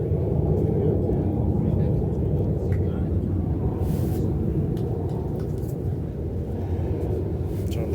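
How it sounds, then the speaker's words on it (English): A propeller or jet airplane passes overhead at an outdoor bowls tournament, producing a steady, broad low rumble that stays loud and continuous for the whole stretch, with no other distinct sounds standing out. "I'm going to wait for the flyover to finish before we get into this tail."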